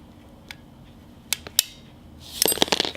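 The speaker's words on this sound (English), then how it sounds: "this little rod, you're gonna hear a click." Small metal brush rod seating inside a car alternator, a few quiet scattered clicks followed by a brief cluster of sharper metallic clicks and rattles near the end, close and faint against near silence.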